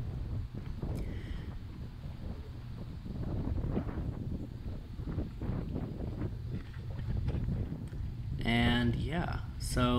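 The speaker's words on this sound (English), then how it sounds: "it's gonna be windy." Wind blows off a lake at a field edge, buffeting the microphone in a steady loud rush that swells toward the end, with a person talking over it.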